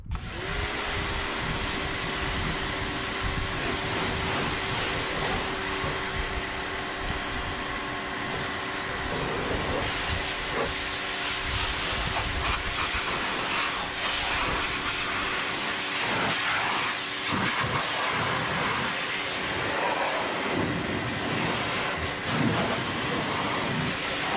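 A 1994 Nissan minitruck being washed down with a water spray, a steady loud hissing rush that continues throughout with slight variations in intensity and a faint tonal hum beneath.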